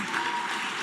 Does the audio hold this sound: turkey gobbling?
no